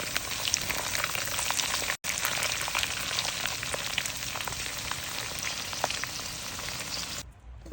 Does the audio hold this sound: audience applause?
no